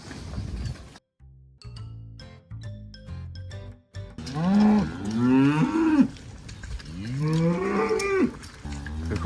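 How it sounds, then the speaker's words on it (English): Cattle crossing a road low repeatedly in long, loud bellowing moos, several animals overlapping near the listener, with a few metallic clinks early on. "Cows coming across."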